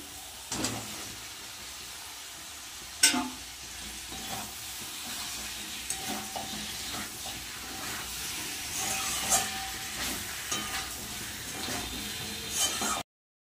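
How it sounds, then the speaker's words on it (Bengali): Fried pointed gourd and potato pieces drop into a pan of cooked-down spice masala in oil, setting off a steady close sizzle with stirring clatter and a few sharp knocks of the spoon. "এবার দিয়ে দেবো পটল আর আলুটা, ভেজে রাখা পটল আর আলু।"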